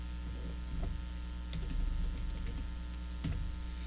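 Keys tap on a computer keyboard while a name is typed during a Windows Server 2000 installation, short bursts of close clicks over a constant mains hum.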